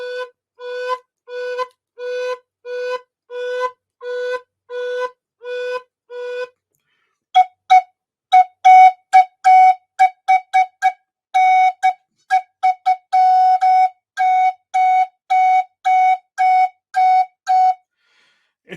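Native American flute played in short, crisp notes cut off by sharp tongue releases, a steady pulse of clipped tones that shifts to a higher pitch partway through, then runs in quicker, uneven groups, solo with no talking.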